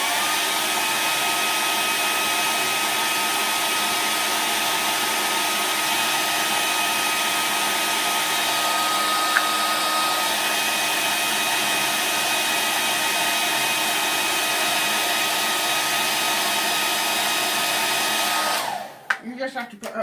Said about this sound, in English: going to have to close your ears because I need a hairdryer